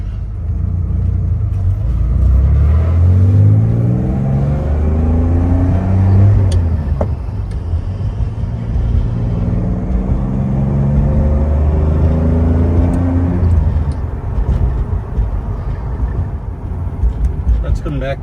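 A 1971 Aston Martin DBS rumbles loud and close from the passenger seat on a road drive, its engine note climbing and falling through several gear changes as the car accelerates.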